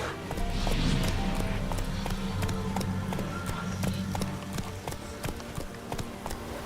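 Geralt's horse Roach gallops in The Witcher 3, with rhythmic hoof clip-clops repeating close and steady over a low rumble of movement.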